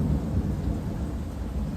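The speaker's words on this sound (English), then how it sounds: "That is the thunder." Thunder from a Florida summer storm rolls as a continuous low, heavy rumble mixed with rain noise, steady and fairly loud throughout with no voices.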